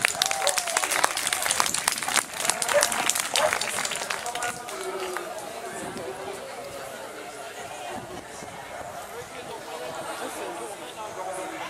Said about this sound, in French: on peut l'applaudir bien fort, Ganesh.